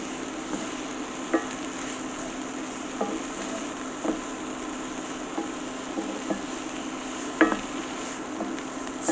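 Mushrooms browning in a pan for vegan gluten-free stuffing give a steady, soft sizzle, broken now and then by faint clicks of a utensil stirring against the pan.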